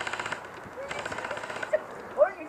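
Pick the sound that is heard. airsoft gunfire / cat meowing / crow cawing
airsoft gunfire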